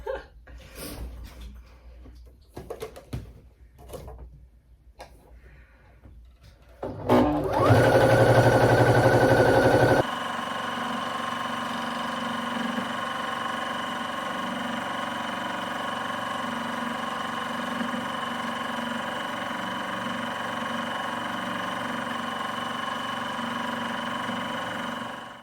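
A sewing machine quilts through a quilt, a steady mechanical whir with a faint rapid stitching rhythm running continuously and close for a long stretch, after some brief handling and setup noises at the start.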